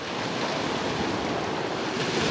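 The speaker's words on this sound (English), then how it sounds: "See those waves behind us?" Ocean-like waves rolling against the shore of Big Winnie, a large lake, make a steady broadband wash with wind buffeting the microphone, continuous and fairly loud with no speech.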